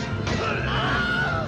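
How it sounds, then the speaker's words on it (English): Wilhelm scream, the stock film sound effect of a man's pained yell reused in many movies, sounding as one loud, sustained cry rising sharply and filling the whole moment. "It's a movie trope called the Wilhelm scream."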